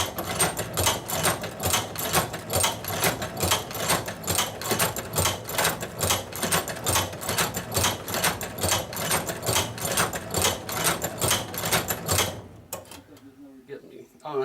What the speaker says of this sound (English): the machine will continue sewing